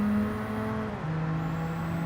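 A Cosworth race car engine in Gran Turismo 7 holds a steady, tonal drone that dips slightly in pitch midway through a short stretch of racing, loud and without speech.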